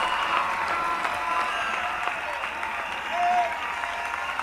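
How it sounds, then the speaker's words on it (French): A church audience at a French-language prayer and intercession gathering applauds in praise, a dense, steady wash of many hands clapping that fills the room with no break. "Clap for Jesus Christ."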